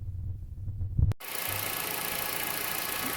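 A Nissan Versa engine cranks briefly after a quiet stretch, catches with a sharp burst, then settles into a steady, close, even running drone.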